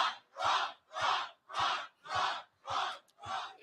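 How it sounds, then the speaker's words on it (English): A crowd at a Trump Iowa caucus speech chants in a steady rhythm, seven loud, evenly spaced collective shouts with brief silences between, close and clear. "even though they're cheering for him"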